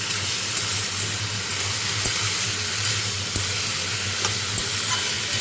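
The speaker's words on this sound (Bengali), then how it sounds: "এবার আমি আলুগুলো ছেড়ে দিলাম এবার কষবো একটু" Potatoes sizzle and hiss steadily in a hot pan while being sautéed for a fig curry, with occasional faint clinks of a utensil against the pan.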